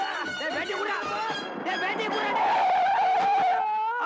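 In a Tamil comedy film scene, a car's tires squeal in a long, loud skid over a rumbling engine, with voices shouting underneath.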